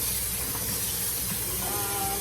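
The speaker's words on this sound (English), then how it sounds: "Fill it up with cold water so your noodle is cold" Cold tap water pours into a pot of noodles while a Cambodian noodle and fish soup is being made, giving a steady, close rushing hiss throughout, with no voices.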